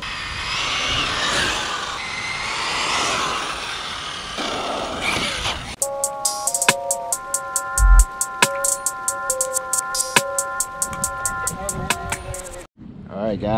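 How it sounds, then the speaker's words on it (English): An Arrma Talion 6s brushless RC car on Redcat Kaiju tires roars with a loud, rushing burst, then settles into a high electric motor whine broken by sharp clicks and throttle pulses. "we got the first pull with the Arrma Talion with the Redcat Kaiju tires"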